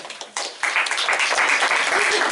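A single person clapping at a school board meeting, a steady patter of hand claps standing alone in the room while a voice speaks over it.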